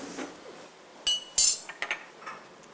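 Cut vegetables dropped into a metal kitchen vessel, a few short clattering clinks and knocks, close and fairly loud, spaced irregularly over a quiet background.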